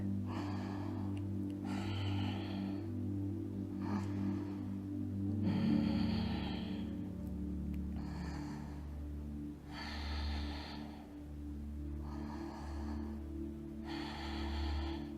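Slow, deep breaths drawn in and out while holding a standing yoga pose, one hand gripping the big toe and the other arm raised, a steady rhythm of long inhales and exhales heard close and clear over a low hum.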